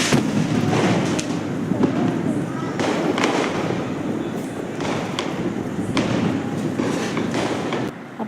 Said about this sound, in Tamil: இப்போ நான் வைக்கிறது ஒரு விதமான ஒரு ஃப்ளவர் பாட் மாதிரியே இருந்தது அதுவும். ஆனால் அது அப்படியே ஒரு மாதிரி வெடித்து வர மாதிரி இருந்தது